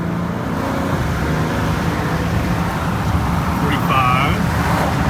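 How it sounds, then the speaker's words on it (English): Wind buffets through an open window of a 2020 Ford Explorer ST moving on the road, making a steady, loud broadband rush over the road and engine rumble. "I just put the window down. And let's see how the wind turbulence is."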